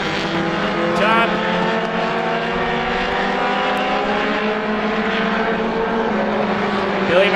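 Roadrunner-class race cars circle Star Speedway during a heat race, several engines droning together in a steady, layered roar with shifting pitches as they pass, under continuous trackside commentary.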